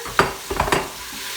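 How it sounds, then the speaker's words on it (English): Vegetables for jambalaya sauté in a pot, with three quick scraping stirs clattering over a soft background sizzle. "We're going to let that saute a little bit to get them nice and tender."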